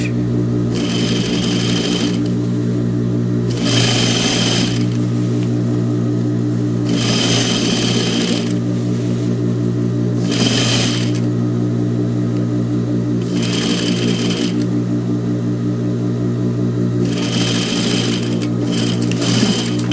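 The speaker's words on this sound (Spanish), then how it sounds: "Ahora vamos a coser por toda la orilla, cuidando de tapar la costura anterior." A sewing machine runs steadily, stitching along the edge of a blouse, its motor hum constant with bursts of faster, louder stitching every few seconds, close and alone without voices.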